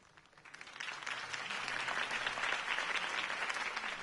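Crowd applause in a Batman: The Telltale Series video game swells in after a quiet start and holds steady, a dense wash of clapping heard from a short distance.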